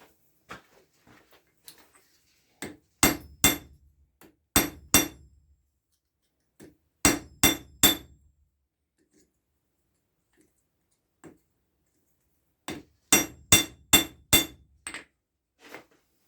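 A ball peen hammer strikes a hot cross on an anvil hardy at a forge, sharp ringing blows falling in short bursts of two to four, separated by quiet pauses.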